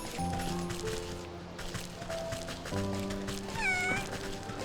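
A cat meows several times, clear and fairly loud, against a steady tonal background.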